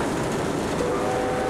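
A train rolling along rails, a steady, loud rumble of wheels and carriage noise with a faint high tonal whine running underneath, continuous for the whole short stretch.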